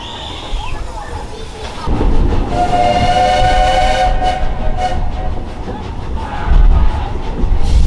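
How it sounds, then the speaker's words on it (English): Space Mountain ride train at Disney World's Magic Kingdom rolling into the station, a steady mechanical rumble with a sustained whining tone, people talking over it. "if we're coming into the station, please remain seated until the train has come to a full and complete stop."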